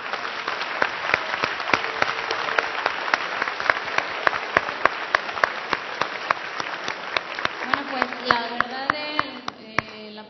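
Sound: applause

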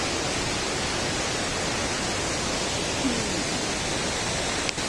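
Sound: waterfall of flood water after heavy rain

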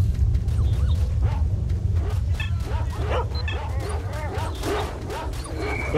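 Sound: dogs barking and attacking in video game S.T.A.L.K.E.R

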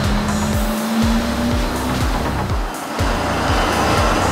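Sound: cars driving past in Monte Carlo

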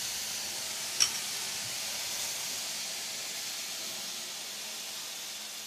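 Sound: vegetables sizzling on a hot griddle

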